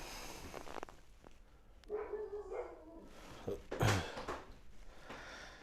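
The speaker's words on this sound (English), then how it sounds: "Oh, puppy dog's going crazy." A pet dog barks and yips excitedly somewhere indoors during a live painting demonstration, the short bursts rising in a cluster midway and standing out moderately over a quiet room with no talking.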